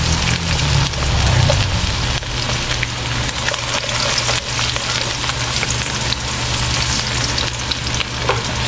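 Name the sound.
sautéing garlic and onion in a pan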